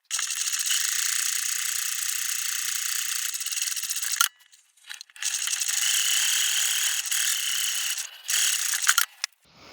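A sewing machine stitches a casing on an oversized trapeze tote bag, running in a loud, fast, rattling whir for several seconds, stopping briefly, then resuming in two more bursts.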